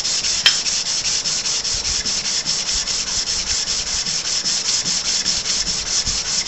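Hand sanding of wood with a sanding block, working with the grain at a high grit: a continuous close, even scratchy rubbing in steady strokes, with no talking.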